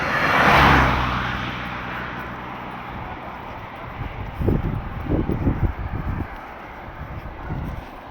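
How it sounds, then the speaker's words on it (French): A car passes on a village road at night near Beuzet, rising as a broad rushing swell early on and fading into wind-buffeted background with a few low rumbles. "Voiture"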